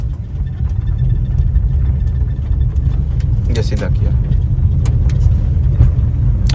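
A car rolls down a slope in second gear during a driving lesson, with a steady low engine and road rumble under an instructor's talk.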